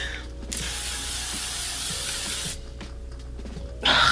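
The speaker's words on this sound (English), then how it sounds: "L'Oreal Infallible 3-second setting mist. This comes out like hairspray." L'Oreal Infallible 3-second setting mist is sprayed in one continuous burst of about two seconds. The aerosol hiss is close and steady, with quiet handling sounds around it.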